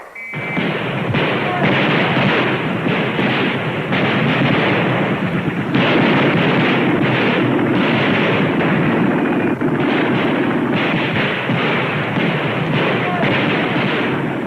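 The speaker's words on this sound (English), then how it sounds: "the German machine gunners run up from their underground shelters and start firing" World War I battle scene, rapid machine-gun fire mixed with heavy artillery, a loud, dense, continuous barrage with pulsing bursts throughout and a voice speaking over it.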